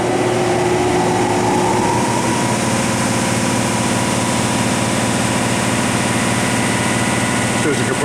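The spindle of a Fanuc Robodrill Alpha-T21iD vertical machining center spins at about 7,000 rpm, a loud, constant mechanical hum and whir that holds without break for the whole stretch.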